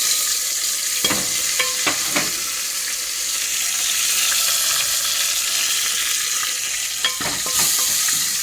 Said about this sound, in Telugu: ముందుగా వెల్లుల్లిపాయలు వేస్తున్నాను. తర్వాత జీలకర్ర, ఎండుమిరపకాయలు, కరివేపాకు వేసుకుంటున్నాను.